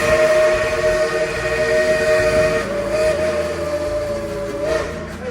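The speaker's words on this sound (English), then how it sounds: "You still get the whistle, the steam" The Dollywood Express steam train sounds its whistle, a loud sustained tonal blast held for several seconds against rumbling train noise, close by.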